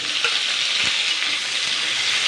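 Diced capsicum, onion and tomato sizzle in medium-hot oil in a pan, a steady close hiss with a light stirring scrape and no talking.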